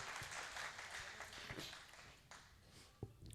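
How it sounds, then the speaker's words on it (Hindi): An audience at a Hindi poetry gathering, a kavi sammelan, claps to welcome poet Vineet Chauhan; loose, moderately quiet applause with scattered sharper claps, fading and fluctuating over a few seconds. "इस लाडले का जोरदार तालियां बजाकर स्वागत करें।"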